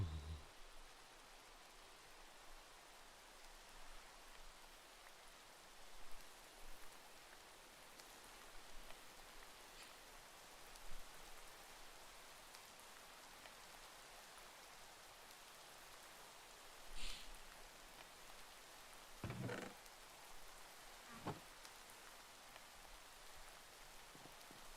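Steady rain falling in the Minecraft video game, a soft continuous hiss that holds through the clip with a few brief louder sounds breaking in near the end.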